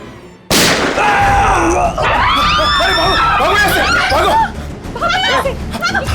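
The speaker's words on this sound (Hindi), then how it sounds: "अरे अंदर गोली चली अंदर।" A sharp, loud gunshot goes off indoors in a TV crime drama scene, followed by frantic shouting and commotion from several voices.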